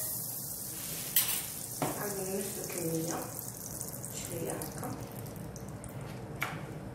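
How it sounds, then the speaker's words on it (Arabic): Butter melts in a heated frying pan while pancake batter is being made, giving a soft, continuous sizzle, with a few clinks and light kitchen handling noises over it. "انا مسخني المقله، نديروا لها الزبده تدوب فيها"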